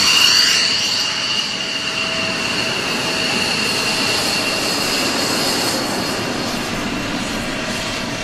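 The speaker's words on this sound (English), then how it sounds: "This time It's another F-16, Belgium Air Force." A specially painted Belgian Air Force F-16 jet roars overhead, a loud, sustained engine rush that swells at the start and holds steady, with no talking.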